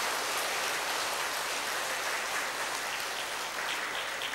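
An audience at a Buddhist lecture applauds the recording crew, a loud, dense and even wash of many hands clapping continuously with no voices over it.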